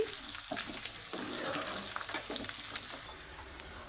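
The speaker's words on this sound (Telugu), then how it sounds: "చికెన్ ఫ్రై అయ్యేదాకా ఇలా మధ్య మధ్యలో కదుపుతూ ఉండాలి లేకపోతే కళాయి కంటుకుంటుంది" Chicken frying in a kadai for Andhra-style chicken pickle, a steady close sizzle broken by intermittent scraping stirs of the spatula, with no voices.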